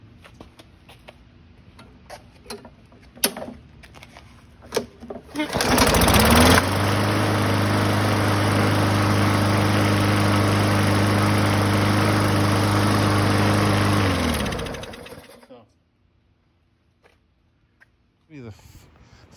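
A 2016 Murray lawn mower, revived from scrap with a new air filter, roars into a loud, steady, vibrating run for about nine seconds before cutting out, with scattered clicks and handling noises before and after.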